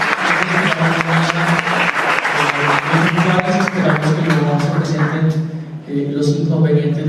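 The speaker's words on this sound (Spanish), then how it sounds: "Un aplauso para nuestro conferencista" Audience applause at an international trade seminar on the US–China trade war, dense clapping close by with a steady rhythm, mixed with voices and music-like tones, fading briefly near the end before resuming.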